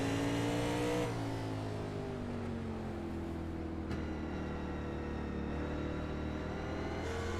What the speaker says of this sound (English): You hear Lorenzo out of the gas through the middle of the corner